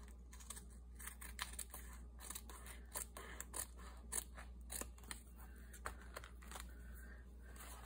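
Scissors trimming the first paper page of a handmade paper bag journal: faint, quick snipping cuts in an uneven series over a steady low background hum, with no talk.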